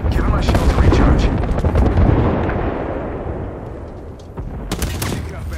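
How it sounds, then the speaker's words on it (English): Gunfire in the video game Apex Legends: a dense opening volley of loud shots and blasts that trails off into echoing rumble, followed by a few sharp, close shots near the end. "Opening fire."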